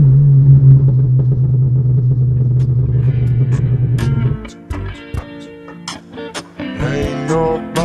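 A 2013 Hyundai Genesis Coupe 2.0 Turbo idles with a deep, loud, steady rumble for about four seconds before it drops away under a rhythmic music track with sharp beats.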